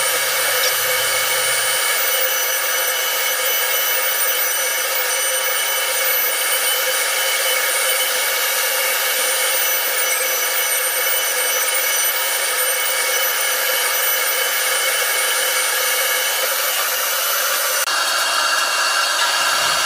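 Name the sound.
Robo Sander routing guitar body cavities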